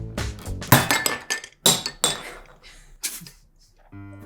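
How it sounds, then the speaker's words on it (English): A real ceramic bowl breaking, with several sharp clinks and crashes of shards scattered across a few seconds, loud and close, with brief talk in between. "The bowl is a real bowl that I just broke"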